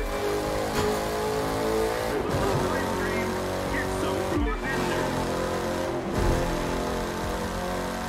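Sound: Ford Mustang engine racing in The Crew 2 video game

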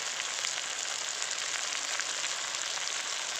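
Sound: sautéing chicken with spices in a pan

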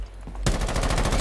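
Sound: shotgun firing in the video game Rainbow Six Siege

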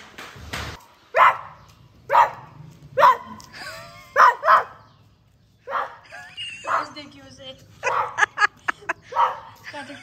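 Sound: person imitating a dog barking

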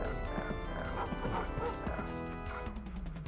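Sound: dog barking in the video game Rise of the Triad

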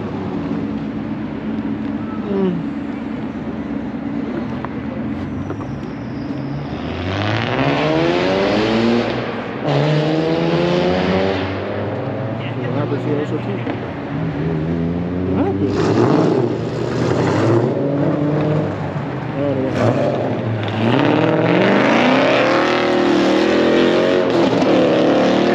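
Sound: car accelerating and shifting gears at a car meet

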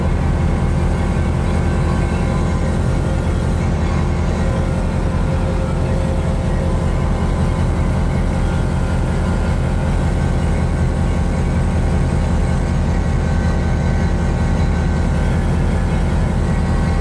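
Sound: Pipistrel Sinus motorglider engine during takeoff

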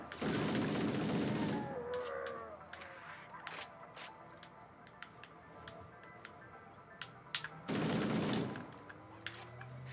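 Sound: gunfire in video game Halo: Combat Evolved

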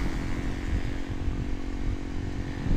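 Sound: motorcycle engine while riding

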